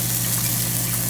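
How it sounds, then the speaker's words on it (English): Pork chops searing in a hot pan give off a dense, continuous sizzle with a steady hum underneath, close and loud with no break. "So we just seared at a high temp the outside of all of the chops."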